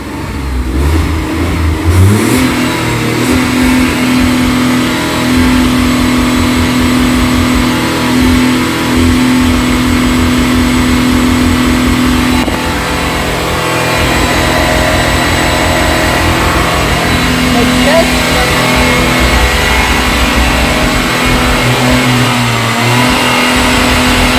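A car engine revs hard and bounces against its rev limiter, loud and close, with sustained high-pitched revving that steps up and down across the stretch.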